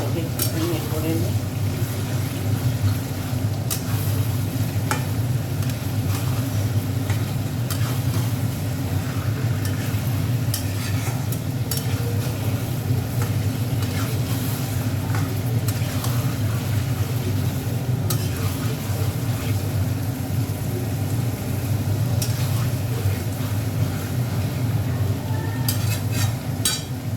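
Ginger garlic paste fries in a pan for a chicken dish, a steady continuous sizzle with scraping stirs and occasional clinks of utensil on metal throughout, close and fairly loud.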